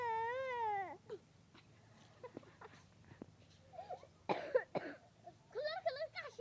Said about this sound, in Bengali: কাশিস না